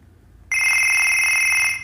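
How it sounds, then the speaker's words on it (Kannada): A custom phone ringtone made from a name plays loud and steady, a sustained electronic tone that starts suddenly after a brief quiet moment and runs on its own. "ಸೊ ಇವಾಗ ನಿಮ್ಮ ರಿಂಗ್ ಟೋನ್ ಕ್ರಿಯೇಟ್ ಆಗಿದೆ."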